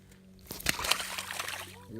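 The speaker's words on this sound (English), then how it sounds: "we're gonna throw him off in the water" A small bass is tossed back into pond water, making a single quick splash and slosh that trails into a brief trickle, fairly faint and close.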